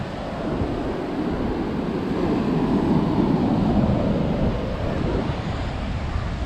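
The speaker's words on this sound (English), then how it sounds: "there's a kind of a dirty water coming in" Ocean waves wash onto the black sand beach at Hac Sa in Macau in a steady, close surf rumble, mixed with gusty wind buffeting the microphone and no clear voices.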